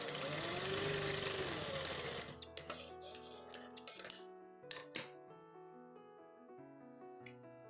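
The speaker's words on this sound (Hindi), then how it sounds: "ये इस पे मैं आखिरी कोने पे सिलाई लगा रही हूँ।" A sewing machine stitches the last corner of a pair of trousers, giving a dense, steady mechanical whir for about two seconds before it stops, followed by scattered lighter clicks against a tonal background.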